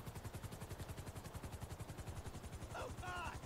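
A helicopter in GTA V Online thuds with a fast, steady rotor beat throughout, faint in the mix, while a voice speaks briefly near the end.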